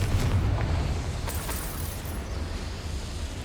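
A Confringo fire spell explodes in Hogwarts Legacy inside the goblin mines, a low rumbling boom with bright crackling bursts that keeps a continuous roar across the short clip, no talking.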